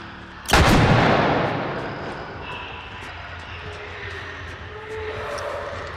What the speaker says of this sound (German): Gut, Schrotflinte.